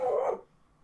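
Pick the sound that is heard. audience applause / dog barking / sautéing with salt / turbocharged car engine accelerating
dog barking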